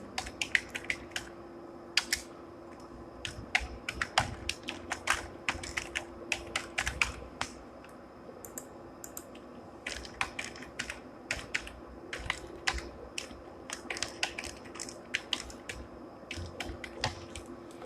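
Fast typing on a computer keyboard, rapid bursts of close crisp key clicks with brief pauses between words, steady and fairly quiet over a light background hum, with no talking.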